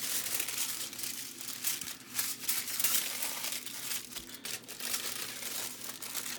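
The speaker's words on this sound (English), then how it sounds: "And we're going to wrap this up. You always want the shiny side of your foil facing out." Aluminum foil crinkled and folded while wrapping pork ribs, continuous close crackling and rustling with uneven bursts, fairly quiet and without talk.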